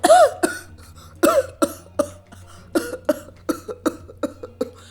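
A person imitates a hospital patient coughing openly at the bedside, giving a string of about a dozen harsh coughs in uneven bursts, loud and close, with no talk.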